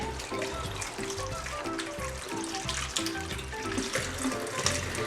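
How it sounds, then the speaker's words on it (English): Tap water runs steadily into a kitchen sink as garlic is rinsed while preparing oven herb roast potatoes, a continuous splashing stream with clattering handling noises throughout, no talking. "Also, you can't forget to wash your garlic."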